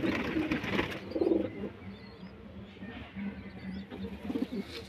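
Several pigeons in a backyard loft give low, throaty coos in uneven bursts, close by, over a busy background of soft rustling and ambient noise.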